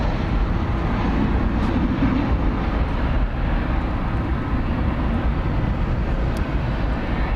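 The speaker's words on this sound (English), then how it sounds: "This A321 coming in from the American Airlines hub in Charlotte." An Airbus A321 airliner arriving at DFW Airport gives a continuous, loud broadband jet roar. The rumble stays steady throughout with no talking.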